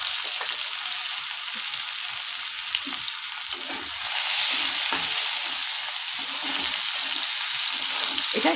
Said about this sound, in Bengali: পেঁয়াজ দিয়ে দিলাম, একটু জিরা ফোড়ন দেবো, অল্প একটু জিরা ফোড়ন।